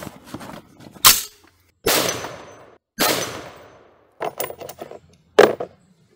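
A rifle fires Federal steel-cased cartridges to fireform brass, giving several loud, sharp reports spaced about a second apart, each followed by a short decaying echo, with faint handling clicks between shots.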